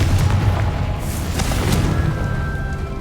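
A deep booming blast from the Confrigo spell in Hogwarts Legacy rumbles continuously, a heavy low roar with faint crackling on top, loud and close and with no voices over it.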